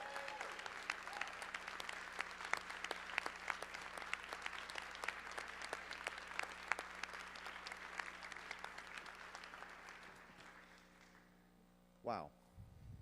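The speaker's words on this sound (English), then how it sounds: "Please give her a round of applause." A keynote audience gives Amy Goodman a sustained round of applause, steady clapping over a low mains hum that fades out near the end before a brief thump.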